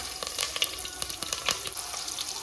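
Onions with curry leaves and spices sizzle and crackle as they fry in a pan, a steady bright hiss with irregular pops and light stirring scrapes, close and alone without speech.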